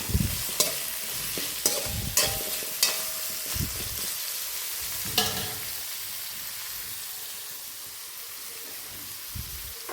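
Pounded ingredients sautéing in a pan for a Sri Lankan wedding achchaaru, with a steady sizzle of frying and a run of sharp stirring knocks and scrapes early on that thin out into a continuous hiss.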